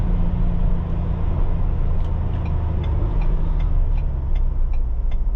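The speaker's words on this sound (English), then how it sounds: "you hear the transmission downshifting a little bit" A 2021 Ford Bronco WildTrak 4-door is heard from inside while driving, with a steady low engine and road rumble as the transmission downshifts, plus faint repeated clicks, and no one speaks.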